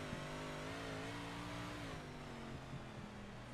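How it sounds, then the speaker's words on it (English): An onboard dirt track race car holds a steady engine drone with slowly shifting pitch, bouncing over a rough, banked oval as it comes out of a turn, with faint knocks from the jolts beneath the engine. "You can hear the track starting to get pretty rough as the car bounces"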